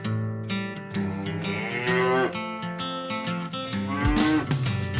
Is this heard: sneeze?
no